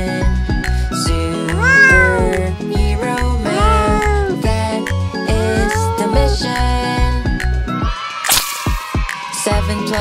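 Cartoon cats meow repeatedly in a kids' nursery-rhyme math song, several loud rising meows in rhythm over a bouncy musical beat, followed by a burst of whip-like sound effects.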